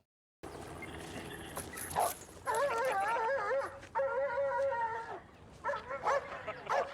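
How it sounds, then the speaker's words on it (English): A dog on the TV show The Wire howls and whimpers in wavering, drawn-out cries, several rising and falling calls in a row with short yips, moderately close against faint background noise. "Damn dog got Norris too."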